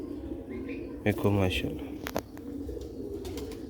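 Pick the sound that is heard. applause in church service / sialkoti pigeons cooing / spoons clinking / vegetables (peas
sialkoti pigeons cooing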